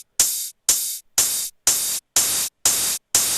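A hi-hat run through a drum thickening plugin with its stress control maxed out, giving seven harsh, loud bursts of crushed hissing noise in a steady rhythm, each cut off abruptly, with nothing else heard.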